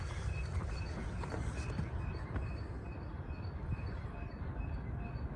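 A CSX maintenance train rolls past a railroad crossing, producing a steady, loud low rumble of wheels and cars that continues without a break throughout.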